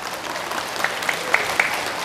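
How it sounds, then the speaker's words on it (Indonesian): A short burst of scattered hand clapping from a small group at a Bugis-language religious lecture, with a few sharper individual claps standing out. "Tepuk tangan."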